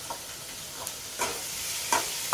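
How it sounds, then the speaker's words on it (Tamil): Tomatoes sautéing in a pan for ridge gourd kootu, a low steady sizzle with occasional soft scrapes and taps of a stirring spoon, fairly quiet. "தக்காளி போட்டு நல்லா வதங்கிட்டுங்க"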